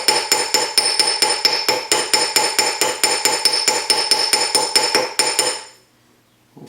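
A sterling silver bangle is struck in a rapid, even series of about twenty-five bright metallic hammer blows, loud and close, ringing slightly before stopping abruptly into near silence.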